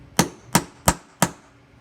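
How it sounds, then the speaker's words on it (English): Four sharp, evenly spaced metallic taps ring out up close, a hammer striking a nail set in a quick steady rhythm. "So I'm going to use a nail set hammer, a couple of good taps, set that back in."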